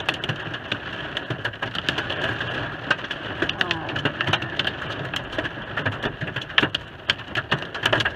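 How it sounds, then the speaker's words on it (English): Dense, heavy rain and hail drumming on a car roof during a storm at a campsite, with sharp scattered impacts over a constant roaring patter. "It's hailing."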